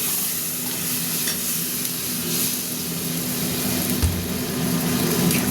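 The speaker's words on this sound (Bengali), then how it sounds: "এবার ঢেলে দিচ্ছি আলুটা।" Potatoes go into a hot pan of oil for Bengali egg curry and set off a steady, close sizzle with a continuous frying hiss and a few small knocks in the pan.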